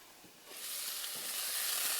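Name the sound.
onion, ginger and garlic sauteing in a covered pan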